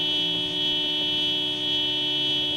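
Car alarm in the Project Zomboid game blaring steadily and loudly, a dense buzzing horn-like tone with faint pulsing, heard alone without talk.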